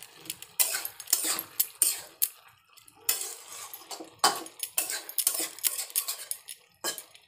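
Mixed veg and chana dal sabzi stirred in a pan, with a spoon clinking and scraping repeatedly against the metal, close and clear, in an irregular rhythm with no talking.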